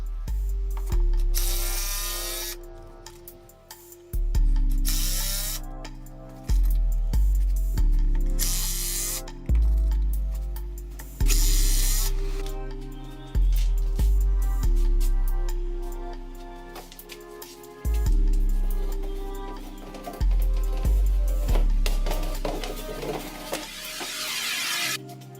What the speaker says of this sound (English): And again, this is a Bosch driver. It's a 36 volt